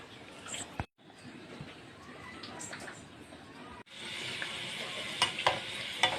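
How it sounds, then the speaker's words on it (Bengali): Puli pitha dumplings deep-fry in oil over a low flame, giving a steady crackling sizzle with occasional stirring clinks. The sizzle drops out briefly twice, then returns brighter and louder. "আমি এখানে এখন পুলি পিঠাগুলো ডুবো তেলে ভেজে নিচ্ছি।"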